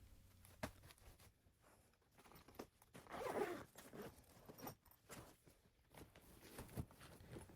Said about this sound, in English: Now I zip everything up and close the carry-on bag.